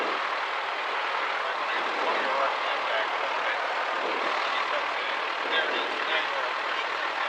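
An aircraft engine warms up at low RPM, giving a steady, broad, even droning roar throughout with no breaks.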